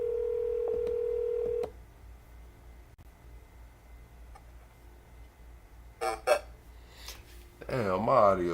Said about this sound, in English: let's call the caller back